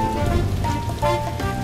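A rain sound effect in a children's nursery sing-along song: a steady, close patter of rain lasting under two seconds, with sustained musical tones running through it.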